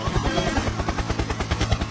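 A helicopter in a Hindi action movie scene gives a fast rhythmic rotor thumping, loud and close, with no talk.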